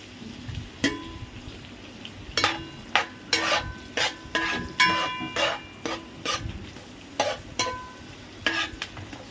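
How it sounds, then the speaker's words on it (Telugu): Peas, carrots, capsicum, green chilli and onion lightly frying for vegetable pulao, a soft sizzle broken by repeated scraping and clinking stirs of a utensil in the pan, moderately close, without speech. "చూడండి, ఇలా లైట్గా ఫ్రై చేసుకోవాలండి."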